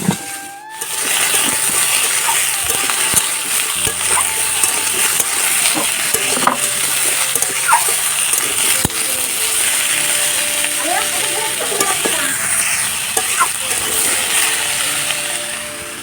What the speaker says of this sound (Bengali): এই তরকারিটা সাঁতাল দিতে হবে।